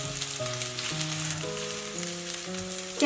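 Green peppers fry slowly on low heat in plenty of cooking oil, giving a steady, close sizzle with faint crackles. Sustained musical tones play softly underneath throughout, and no one speaks.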